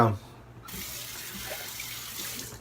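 Tap water runs steadily into a bathroom sink as a razor is rinsed between shaving passes, a continuous close splashing hiss after a brief sound at the start.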